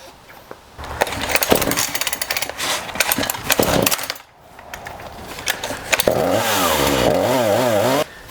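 Chainsaw, choked and primed, being pull-started with several rough yanks and clatters before the engine briefly catches and revs loudly, then cuts out.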